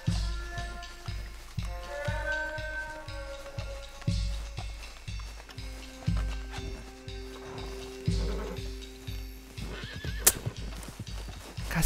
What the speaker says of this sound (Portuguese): Não, calma, cavalo.